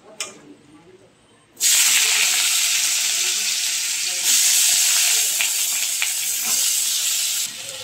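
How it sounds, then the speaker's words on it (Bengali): Quiet at first, then a sudden loud sizzle as diced potatoes hit hot oil, crackling and hissing steadily with occasional stirring. "এবারে তেলের মধ্যে আলুটা দেবো।"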